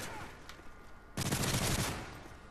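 A single sharp underbarrel shotgun blast from Modern Warfare 3 erupts from quiet game ambience, cracking loudly and trailing off over about a second.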